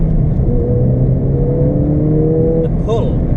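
A turbocharged Ford Fiesta ST hatchback engine revs and pulls strongly under acceleration, a steady rising drone from inside the cabin, with a quick shift-like change near the end.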